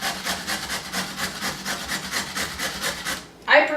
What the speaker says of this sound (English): I prefer grating carrots myself